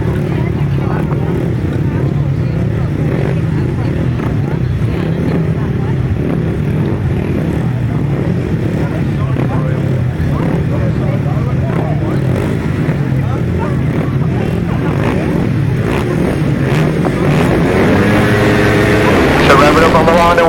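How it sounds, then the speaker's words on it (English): Grasstrack racing motorcycles at the 2019 British Grasstrack Championships rev together on the start line, a loud continuous engine roar that builds in pitch near the end as the race gets away, with a commentator talking over it. "So revving up on the line, away we go in."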